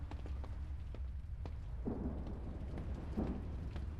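Rain and thunder in a horror video game, a steady wash of rainfall with low rumbling thunder swelling and a couple of brief cracks, moderately quiet and without talk.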